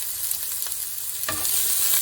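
Leek sautéing in a pan makes a soft, steady sizzle with a brief louder scrape or stir partway through, close and alone with no talking.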